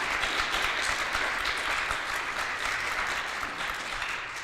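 A crowd at a pep rally claps for the admin team, producing continuous, even applause throughout with no clear break.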